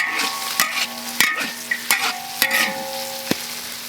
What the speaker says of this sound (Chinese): 炒了一下，加入点老抽